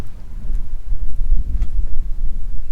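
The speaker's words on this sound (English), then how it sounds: "It is a little windy" Steady wind buffets the microphone outdoors at Lake Pleasant, a continuous low rumble with gusty swells and no voices.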